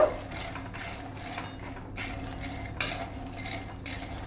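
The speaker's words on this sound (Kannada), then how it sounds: "ಶೇಂಗಾ ಕಾಳು ಸಣ್ಣ ಉರಿ ಇಟ್ಟು ಚಲೋದಂಗ ಹುರ್ಕೋಬೇಕು" Peanuts roasting in a pan over a low flame, stirred with a utensil that gives soft scraping and occasional metallic clinks over a faint background hum.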